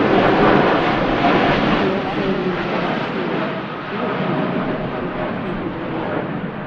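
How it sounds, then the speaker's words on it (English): A Boeing 787 Dreamliner on its takeoff roll bound for Montego Bay makes a loud, steady broadband jet roar that holds strong throughout, easing only slightly toward the end, with a voice faintly audible beneath it. "Pretty early rotation there for the Dreamliner, considering it's going all the way to Montego Bay."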